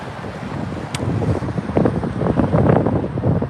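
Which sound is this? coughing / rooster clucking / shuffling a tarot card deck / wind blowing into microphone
wind blowing into microphone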